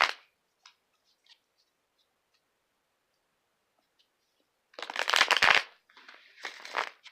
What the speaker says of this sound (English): Just gonna shuffle a couple times.